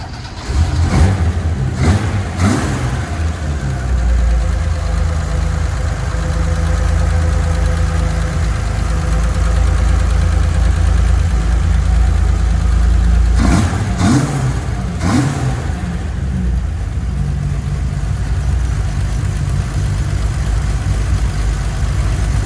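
A 1973 Holden Torana GTR XU1 engine runs close by with a loud, steady low rumble. Short sharp revs come early and again around the middle, with no talking.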